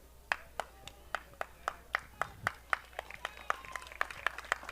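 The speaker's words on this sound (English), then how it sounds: "a nice round of applause for the keeper heading back out for Roseville" A small crowd at a Roseville versus St. Clair high school game claps for the Roseville keeper: sparse, evenly spaced handclaps, a few hands in a steady rhythm, heard from a distance over a faint background hum.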